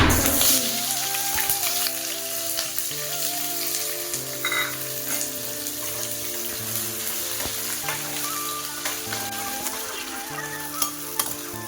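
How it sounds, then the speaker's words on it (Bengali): Onions frying in oil in a pan for a Bengali-style chicken curry with potatoes, a steady close sizzle with occasional stirring scrapes, while a low tonal hum of background music runs beneath throughout. "পেঁয়াজটা লাল লাল করে ভেজে নিয়েছি"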